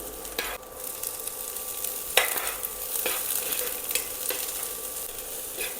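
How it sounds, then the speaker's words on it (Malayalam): Chopped ginger, garlic, a chili and onion sauté in a hot pan for egg rice, giving a steady close sizzle broken by scattered spatula scrapes and clacks, with no talking. "നമുക്ക് 2 മിനിറ്റ് സോട്ട് ചെയ്യാം"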